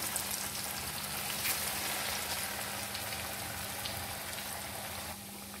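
Aloo tikki potato patty sizzling in oil over low to medium heat, a dense, steady hiss and crackle that runs without break and eases slightly at the end.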